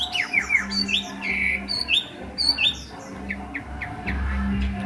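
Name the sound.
Chinese hwamei songbird calling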